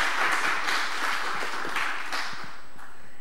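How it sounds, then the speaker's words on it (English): A conference audience applauds two student presenters, a thick, even wash of many hands clapping, loud and continuous without pause for a few seconds. "Give them some applause."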